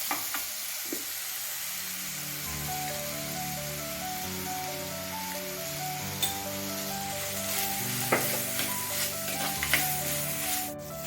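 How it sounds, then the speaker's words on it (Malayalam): Onions and chillies fry in a clay pot for a village-style chicken curry with curry leaves and turmeric, a steady close sizzle under a droning tonal hum, with occasional light clinks of a utensil against the pot. "ഉള്ളിയും മുളകൊക്കെ ഒന്ന് ചെറുതായി മൂത്ത് വന്നിട്ടുണ്ട്"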